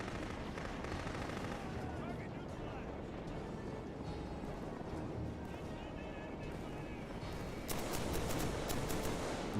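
A minigun fires in the video game Killzone 3 as a dense, continuous roar of rapid gunfire. The sound holds steady and grows louder and sharper toward the end.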